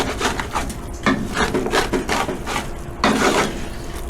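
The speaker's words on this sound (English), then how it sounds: "So now we're gonna stir this around." A spoon stirring jambalaya and scraping across the bottom of the pot, a rough, gritty rasping in repeated strokes, close and fairly loud with no talking.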